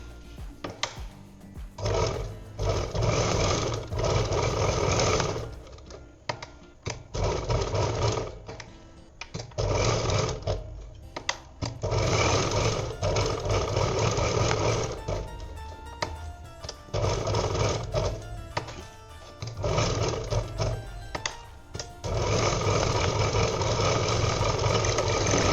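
Sewing machine stitching cloth for a homemade shoulder bag, a loud continuous mechanical whir running in long bursts with brief pauses between passes, close up and alone.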